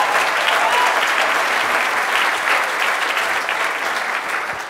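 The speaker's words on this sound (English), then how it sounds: "So give her another big round of applause." A conference audience at a single-payer healthcare strategy panel gives a loud, sustained round of applause that fades slightly toward the end, with no voices over it.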